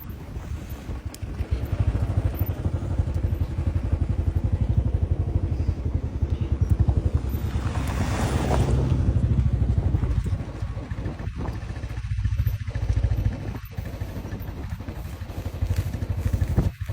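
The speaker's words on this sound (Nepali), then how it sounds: "ढुङ्गाहरू भएर स्कुटरमा अलिक गाह्रो भयो जस्तो भएको" A scooter rides over a rocky, unpaved road, its small engine droning steadily with wind buffeting the microphone and occasional bumps and knocks from the rough surface, close and continuous.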